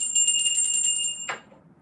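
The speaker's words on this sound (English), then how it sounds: "But you get a bell." A small bell rings in a quick, bright trill of repeated strikes, then stops abruptly with a soft thump, leaving near silence.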